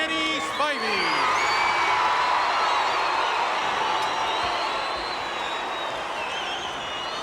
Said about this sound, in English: A tremendous crowd on hand